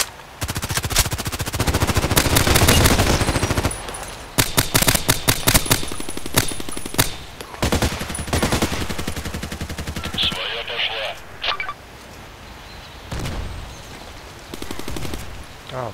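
Gunfire in the Contract Wars video game, including an AS VAL with Kobra sight, rattles in loud rapid automatic bursts and single cracks, with distant shots in quieter stretches and someone talking over parts of it.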